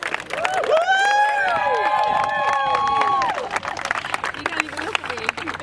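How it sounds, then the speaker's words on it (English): Wedding guests applaud and cheer the bride and groom at an outdoor ceremony in the Sydney sun, with clapping under loud whistles and whoops and excited crowd chatter throughout. "a massive round of applause for the bride and groom"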